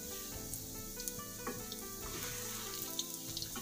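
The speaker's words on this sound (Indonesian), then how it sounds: "kita goreng sampai dalamnya itu empuk" Kue keranjang, a sweet sticky rice cake chilled hard in the fridge, frying in oil over medium heat for the Lunar New Year, with a steady close sizzle and small crackles and pops throughout.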